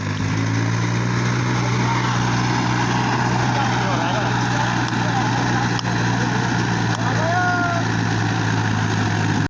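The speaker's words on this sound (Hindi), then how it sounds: "ट्रैक्टर को चढ़ाने की कोशिश की।" A tractor engine revs and labors while climbing a slope near a valley, giving a loud, steady, droning roar that continues unbroken throughout.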